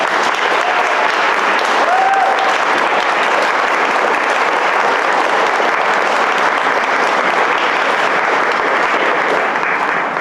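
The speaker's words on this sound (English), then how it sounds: "please give them a big round of applause" Crowd applauding warmly at a 50th wedding anniversary celebration, a dense, sustained clapping that stays loud and even throughout, with a few faint voices mixed in.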